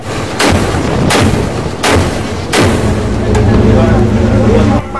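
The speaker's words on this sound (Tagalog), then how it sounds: "Ilang putok pa lang, lubog na ang target nito." Main gun of the Philippine Navy ship BRP Gregorio Del Pilar firing at a target at sea: four loud, sharp booms at roughly even intervals, each followed by a rumbling decay, with a steady low engine or machinery drone beneath.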